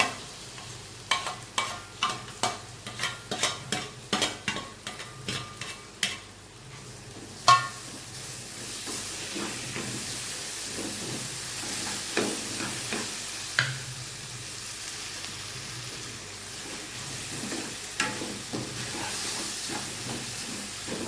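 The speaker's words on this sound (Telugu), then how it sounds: "ఆనియన్స్ ఫ్రై అయినాయి ఫ్రై అయినాయి ఇప్పుడైతే మామిడికాయ తురుము వేసుకోవాలి" Fried onions are stirred in a pan with grated raw mango: a quick run of rhythmic spatula scrapes comes first, then a steadier hissing sizzle with occasional stirring knocks.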